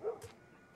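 A dog in The Last of Us gives two faint, quick barks, distant and spaced apart, over a low background.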